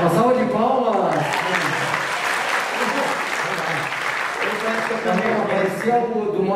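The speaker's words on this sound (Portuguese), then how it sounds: "Uma salva de palmas!" Audience at a stage hypnosis show breaking into applause, a full, sustained round of clapping with voices and music-like tones underneath at the start and end.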